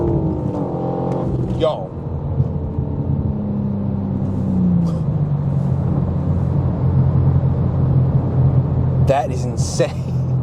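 A tuned 700 hp BMW M4 G82 pulls hard in third gear, its engine a loud, steady rumbling drone that rises in pitch, with excited voices speaking over it.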